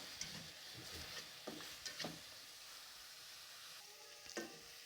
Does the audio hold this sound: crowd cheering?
no